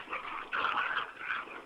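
A dog whimpers and whines in a series of close, high, nasal cries, rising and falling over under two seconds with brief gaps, and no talking.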